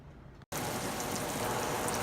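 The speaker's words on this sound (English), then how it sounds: "All right, there are those little bad boys frying up." Eggs fry in a pan with a dense crackling sizzle that stops for a split second near the start, then returns at a louder, steady level.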